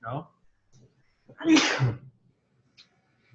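A single sharp sneeze bursts out in a quiet room between bits of soft conversation, loud and close for under a second.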